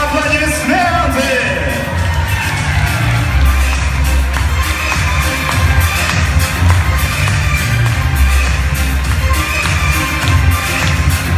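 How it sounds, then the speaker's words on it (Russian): A loud crowd at a dolphin show cheers, whoops and shouts continuously, children's voices among them, with a low rumble running underneath. "Ну а вы в ответ подарите им свои улыбки и аплодисменты"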